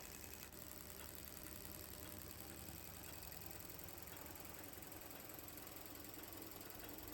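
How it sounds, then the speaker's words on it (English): Fuel injectors on a Norton Nemesis V8 motorcycle engine under rebuild, clicking away in a fast, even, mechanical ticking pattern, faint and steady throughout with no other sounds. "With all the injectors clicking away nicely"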